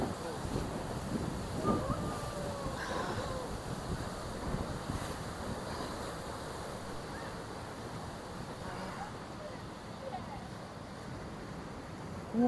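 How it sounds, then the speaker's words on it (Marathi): Rhine Falls in Switzerland, Europe's largest waterfall, gives off a steady broadband roar that holds for the whole stretch, mixed with wind buffeting the microphone and brief bits of nearby voices. "खूप मोठा धबधबा आहे हा."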